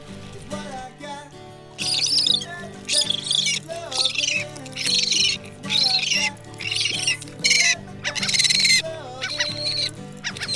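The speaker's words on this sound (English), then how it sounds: "Oh, I got a bird." A seabird hooked on a topwater fishing lure squawks and calls repeatedly on an island shore, harsh loud cries in bursts over a steady background drone.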